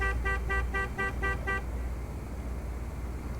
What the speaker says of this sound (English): The horn sounds like a car alarm.